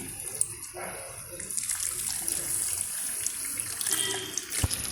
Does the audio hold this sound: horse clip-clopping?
no